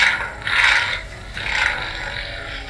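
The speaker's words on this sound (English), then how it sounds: "So it does have the Kylo Ren sound, the red and everything" Hasbro Force FX Kylo Ren red lightsaber toy humming with a crackly, unstable buzz that swells in two loud surges, steady and close with no talk.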